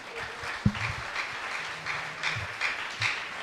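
Church congregation applauding at a ministers' convention, a steady wash of clapping from a crowd that swells in short bursts, with a sharp nearby clap early on.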